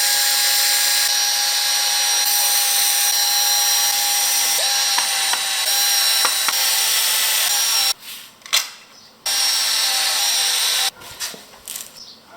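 A power saw cuts wooden boards for a garden bench restoration, a loud continuous whine that runs for several seconds, drops out briefly, returns, then stops, leaving handling noise.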